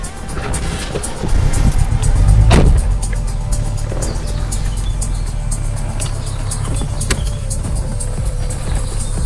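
Audi 80 Cabriolet driving along a road with its engine running, a steady low rumble and road noise throughout, swelling briefly early on, recorded from inside the car.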